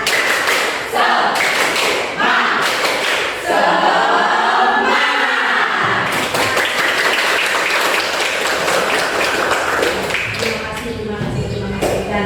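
Schoolchildren in a classroom perform a rhythmic scout spirit clapping chant, sharp patterned claps in bursts with chanting voices, a louder tonal shout midway, then renewed quick clapping.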